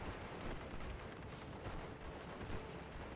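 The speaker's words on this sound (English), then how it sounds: "200mm mortar trying to displace these airborne pairs." In a World War II strategy game, a 200mm mortar and other artillery rumble in dense, overlapping booms and blasts. The battle noise is continuous and muffled, with no talking.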